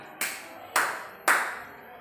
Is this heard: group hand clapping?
yes